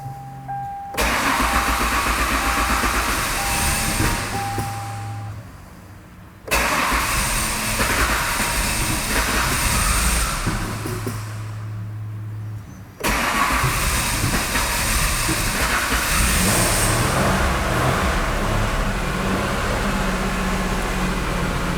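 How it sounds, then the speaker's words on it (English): A 1998 Ford Contour that would not start, running on old fuel, cranks and fires up three times, each a loud near engine start settling into idle before cutting off, with no talk. "see if I can get it to start up and run"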